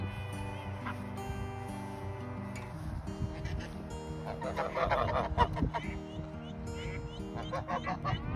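Geese at a duck pond honk in a continuous noisy chorus, with sustained nasal calls and overlapping sharp honks, some close and loud, mixed with ducks and outdoor background rumble.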